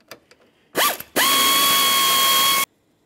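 A ratchet or power driver removes screws from the grille trim molding of a 2006-2011 Honda Civic: a couple of short bursts of whirring, then a steady, loud whine of about 1.5 seconds, close by and with no talk.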